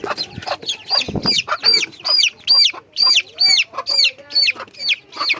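A rooster and hens in a farmyard cluck in a quick series of loud, repeated calls close to the listener, with some wing rustling and no speech.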